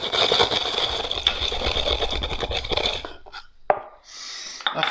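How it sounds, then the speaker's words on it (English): Fennel seeds are ground by hand with steady gritty rasping and scraping for about three seconds, then the grinding stops and a few light knocks and handling sounds follow. "Now, I've only got fennel seeds, so I'm going to have to grind these myself."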